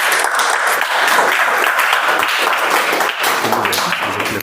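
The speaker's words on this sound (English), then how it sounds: "Let's give a huge round of applause." A Toastmasters club meeting audience gives a loud, dense round of applause, a steady sustained clapping that holds for several seconds before tapering slightly at the end.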